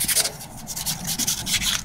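Sandpaper rubs back and forth against a speaker magnet to clean off old glue, making close, rapid scratchy strokes in an uneven rhythm.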